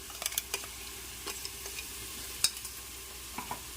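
A paste of green chili, ginger and garlic fries softly in a pan for masala rice. A low, steady sizzle runs throughout, broken by scattered light taps and scrapes of a stirring spoon. No one speaks.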